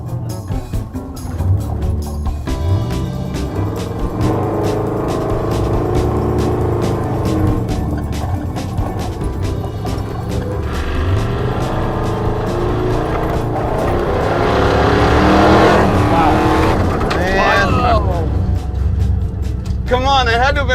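Muscle truck roaring as it accelerates hard with tire spin on a dirt track, loud sustained engine wail rising to a peak, with people talking over it.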